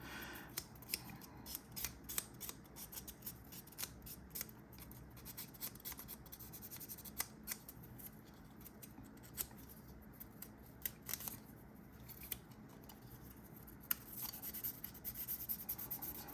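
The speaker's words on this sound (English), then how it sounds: "These little sanding sticks are really helpful." Quiet, close scratchy rubbing strokes of a small sanding stick working on a hard resin model, repeated in short irregular bursts without any voices.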